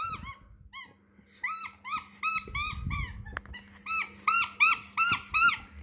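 A dog gives a run of high, rubbery squeaks from a chew bone, some single and some in quick bursts, with soft chewing and low rustling underneath and a louder flurry of squeaks near the end.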